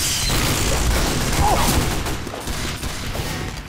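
Loud, continuous gunfire and explosive booms from the video game Team Fortress 2 on the Pass Time map Division, heavy and sustained throughout with little pause.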